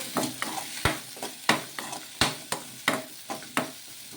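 Onion and garlic sauté in a sizzling pan while a spatula scrapes in regular strokes, roughly ten sharp scrapes over a constant fry.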